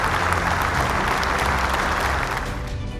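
An audience at a Bible quiz semi-final show welcomes the contestants with loud, continuous applause and crowd noise, tapering slightly at the end.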